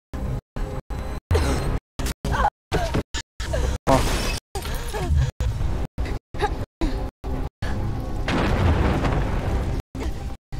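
Glass shatters as a character leaps through a window in the video game Beyond: Two Souls, with crashing, breaking bursts and booming impacts in choppy fragments separated by short silent gaps.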